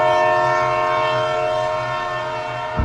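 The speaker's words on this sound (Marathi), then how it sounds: "ट्रेनचा हॉर्नचा आवाज ऐकू आला" A loud, sustained train horn blares steadily at Kalyan station, its tonal blast holding for nearly three seconds before a sharp thump at the end as the train begins moving.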